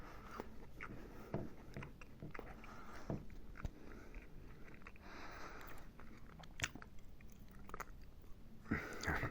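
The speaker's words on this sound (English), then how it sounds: "just gonna have a bite of my toast" Someone bites and chews toast close to the mic, with soft crunchy bites and steady chewing for several seconds and no talking.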